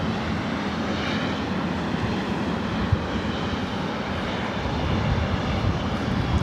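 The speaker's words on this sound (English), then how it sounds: "Having the Lufthansa Queen take off here on the north side." A Lufthansa airliner, the Queen, takes off from the north side at LAX, its engines a loud, continuous broadband roar that swells slightly toward the end, with no talking.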